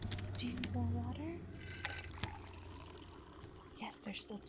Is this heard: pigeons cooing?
no